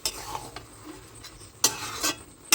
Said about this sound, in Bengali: এটা নাড়িয়ে দিই।